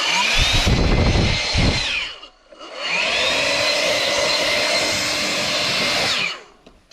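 An air blower clears dust out of a timber post or beam for a timber frame shed, roaring loudly in two long bursts with a brief pause between them, close by and with no talk.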